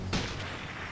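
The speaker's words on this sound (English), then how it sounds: "Why are you shooting me, Smosh?" A single gunshot goes off in a sniper shooting video game, a sharp close boom with a short rumbling tail that dies away quickly.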